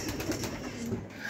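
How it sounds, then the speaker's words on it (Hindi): Soft high-flyer pigeon coos repeat close by, low and murmuring, over a faint steady background hum, in Lahore. "सारे कबूतर ही एक्टिव है ने"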